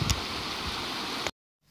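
Water overflows the spillway of a reservoir, or açude, in Ceará after heavy rain, a loud, steady roaring rush close by that cuts off abruptly near the end.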